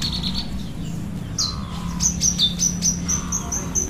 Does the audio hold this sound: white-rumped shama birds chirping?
yes